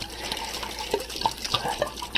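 Water poured and sloshed in a container to soak and tear apart stacks of paper notes, a continuous wet splashing with small drips and gurgles throughout.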